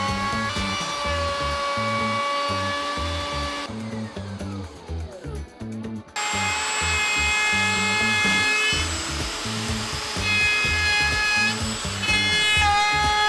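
A router cuts a round-over along the edge of a walnut tabletop, giving a loud, high, steady whine with a pulsing motor drone beneath it that drops briefly mid-pass before resuming at full strength.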